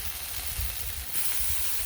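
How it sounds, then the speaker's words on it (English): Steady, close sizzling of frozen chicken tenders frying on a hot griddle, a continuous crackling hiss with faint soft knocks underneath. "These are frozen chicken tenders"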